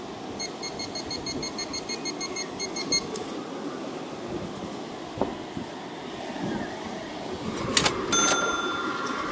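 A metal detector sweeping a beach at Mrzeżyno, Poland, gives a fast, even run of about a dozen electronic beeps over three seconds, then falls quiet, leaving soft scraping and a few sharp knocks.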